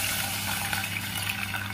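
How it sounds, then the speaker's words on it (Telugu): Water is poured from a small glass into a cooking pot on the stove, a steady close trickling and splashing that lasts throughout. "వాటర్ అయితే పోసేసుకున్నాను"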